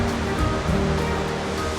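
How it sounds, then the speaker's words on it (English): Large 78-metre waterfall at Plitvice Lakes, a dense steady roar of falling water, loud and continuous, with no voices. "One of the highlights is the large waterfall, 78 meters high."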